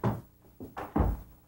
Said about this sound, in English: Pull the door closed